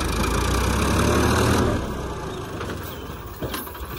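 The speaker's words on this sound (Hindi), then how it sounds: "अब देखो लकड़ी के सहारे निकलता ट्रैक्टर या नहीं।" A tractor engine runs on a rough farm track while the tractor tries to climb out with wood placed under its wheels: a steady, low mechanical drone that is louder at first, then eases to a lighter running note.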